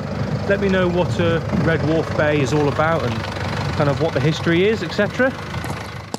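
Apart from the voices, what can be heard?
van engine running in background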